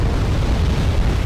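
A loud, dense rumble of artillery explosions from the war strategy game Wargame Red Dragon, a brief, steady roar of blasts with no talking over it.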